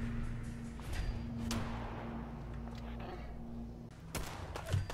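Pistol shots fired in the video game Fallout 4: a few sharp cracks, one near the middle and another toward the end, set against a constant humming game ambience.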